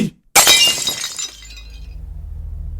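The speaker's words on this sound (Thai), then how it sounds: "คุณแม่ตกใจจนเผลอทำจานตกแตก" Plate dropped onto a hard floor, a sudden loud shatter after a brief silence, ceramic shards clinking and skittering as it decays into a low hum.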